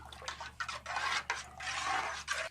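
Homemade organic pesticide mixture being stirred with water in a container, soft swishing and sloshing strokes with faint scraping, repeated in uneven bursts at close range.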